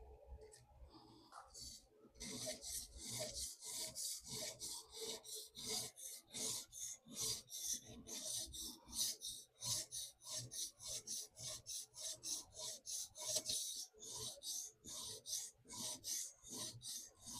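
A Monterey Bay Sabertooth knife blade is sharpened on a TSProf diamond stone, producing quiet, rhythmic rasping strokes in steady back-and-forth succession, each a short scrape repeated many times.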